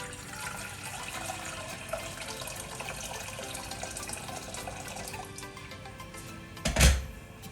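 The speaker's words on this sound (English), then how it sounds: "and pour in some water" Water poured into a pot for rice porridge on a stove that is already heating, a continuous wash of splashing and trickling liquid with a brief louder splash near the end.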